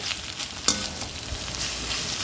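Egg and vegetables stirred and fried in a pan over heat, a steady close sizzle with a single sharp utensil knock partway through, no voices.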